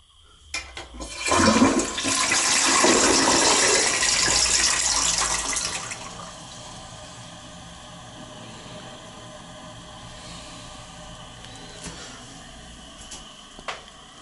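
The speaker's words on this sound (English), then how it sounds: "We'll flush it just for you guys." A Niagara toilet in a historic Hollywood hotel bathroom flushes with a loud, close roaring gush lasting several seconds, then settles into a steady quieter refill hiss with a few small clicks.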